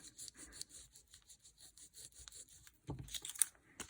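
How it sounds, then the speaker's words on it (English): A glue eraser rubbed back and forth with moderate pressure over dried glue on wood, giving quiet, close, rhythmic scrubbing strokes with a slightly stronger burst near the end. "You just go back and rub it till you get that glue glob out of there."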